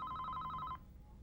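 A telephone in an Indonesian TV drama gives a fast, trilling electronic ring of rapid pulses, which cuts off abruptly after under a second and leaves a quiet room.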